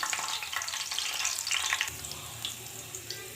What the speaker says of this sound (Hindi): दाल के तड़के के लिए मैंने इधर एक फ्राइंग पैन में कुकिंग ऑयल और लहसुन चॉप किया हुआ डाल दिया है। इसको हल्का सा फ्राई करूँगी।